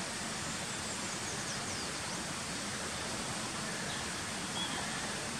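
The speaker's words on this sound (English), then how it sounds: "You can just hear the waterfall behind me." O'Sullivans Cascade roars as a steady, even wash of falling water heard from a campsite at sunrise, constant and unbroken with no talking.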